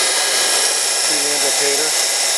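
Heald 271 Gage-Matic internal grinder with its workhead running: a steady, loud, high machine whine and broadband hum, with a voice speaking briefly over it, heard close in a shop.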